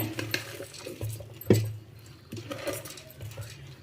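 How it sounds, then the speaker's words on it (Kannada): Bhel puri being mixed by hand: soft stirring and scraping of puffed rice and ingredients in a metal bowl, with light clinks of a utensil and one sharper knock midway, quiet and close. "ಇದೆಲ್ಲ ಚೆಂದಾಗಿ ಮಿಕ್ಸ್ ಆಗಿದೆ"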